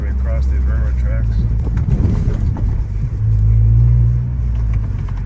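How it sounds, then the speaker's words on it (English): The exhaust of a 2013 Ford Focus ST3 on the road gives a steady low rumble that swells slightly partway through, with a person talking over the drone. "Vent the windows a little bit so you can hear the exhaust even better"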